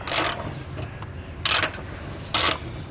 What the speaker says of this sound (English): now we can go ahead and tighten on our nuts with our wrench